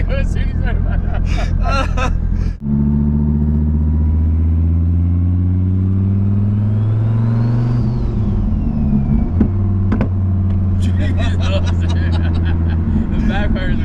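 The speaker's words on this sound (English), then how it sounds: "The backfires are intense." A Lamborghini Huracan Performante engine revs and drones loudly up close from inside the car, with sharp backfire pops and crackles near the start and end, while people talk over it.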